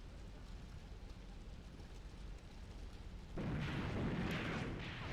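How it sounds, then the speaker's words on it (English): Rumbling 203mm rocket impacts from the Graviteam Tactics tank battle, a steady low roar that jumps louder halfway through with bursts of blast noise, heavy and continuous without voices. "203mm rockets, begin to fall. Ricocheting across the ground. High explosives and high explosive anti-tank."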